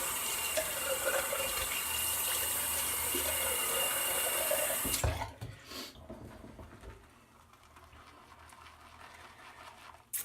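A tap runs steadily and fairly loud as shaving lather is rinsed off, then abruptly shuts off about halfway through, leaving a quiet room with faint handling noises.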